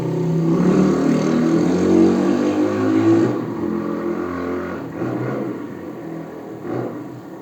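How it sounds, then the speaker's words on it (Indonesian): A motorcycle engine hums steadily on an empty, quiet road, loud and close for the first few seconds, then easing to a lower, more distant drone. "Itu motor dari tadi ngikutin gua bukan sih?"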